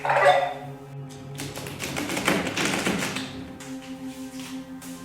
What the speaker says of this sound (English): I'm shuffling right now as we speak.